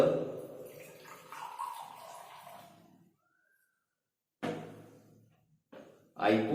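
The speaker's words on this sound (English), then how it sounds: "I pour the water." Water pours from a container into a glass during a classroom liquids activity, a splashing stream for about three seconds, then short bursts of pouring after a pause, fairly quiet and close.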